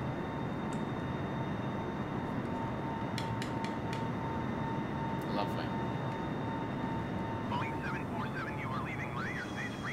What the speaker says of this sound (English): First takeoff in the 747.